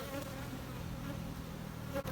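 Honeybees hum faintly at a backyard hive holding comb honey sections during a honey flow. The buzzing is a steady, soft drone with no pauses and no voices.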